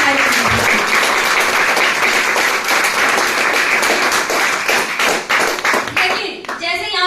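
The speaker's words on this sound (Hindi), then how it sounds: "मैं चाहूंगी एक जोरदार तालियां" Loud, dense clapping from an audience at a wellness business presentation, sustained for several seconds before thinning out toward the end.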